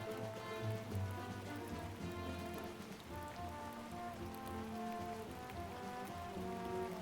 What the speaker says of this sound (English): 10 hours of relaxing rain sounds